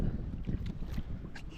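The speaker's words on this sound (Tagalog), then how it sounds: "lakas ng hangin paikot-ikot" Strong, gusting wind roars across the microphone on a shoreline where a large boat has docked, a steady low rumble with brief swells and no speech.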